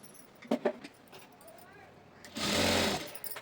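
A sewing machine stitches the inside edge of a hem on a petticoat, a dense mechanical burst running for about a second after quieter clicks and handling noises.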